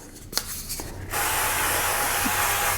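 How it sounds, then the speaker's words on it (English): Avocado oil sprayed from a spray bottle onto an air fryer oven pan through the tray: a few soft handling clicks, then a steady, close hissing spray lasting nearly two seconds. "So you always want to spray the pan with a little bit of oil."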